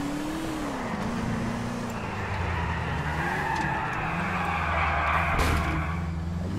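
Engine of a sports car driving on dirt in GTA IV, a steady droning note with shifting revs and gritty tire noise, loud and continuous with no talk.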